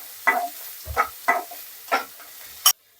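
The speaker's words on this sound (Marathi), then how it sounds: "कांदा भाजत आहे" Onion is stirred and frying in a pan, with about five short scraping strokes over a soft background sizzle and one sharp clink at the end.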